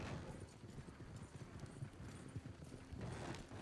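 Faint, steady clip-clop of horse hooves with some wagon rumble in Red Dead Redemption 2, a continuous trotting rhythm heard low and distant throughout.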